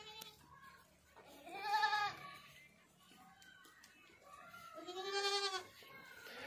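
Goats that have just been vaccinated bleat in two clear, drawn-out calls at moderate distance, with a quiet gap between them and no talking.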